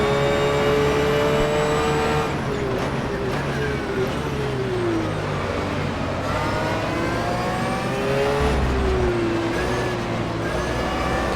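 A Porsche 911 GT3 R race car in the rFactor 2 sim laps Imola, its engine loud and continuous, revving up through the gears with short dips on upshifts and braking, and no voice over it.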